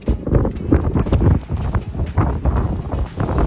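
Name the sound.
strong wind in the port city of Beira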